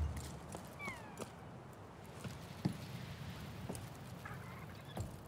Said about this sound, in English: Another bird.